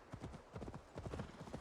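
Two identical horses' hooves clip-clop in a steady, uneven rhythm in Assassin's Creed Valhalla, fairly quiet and close with no talk over them.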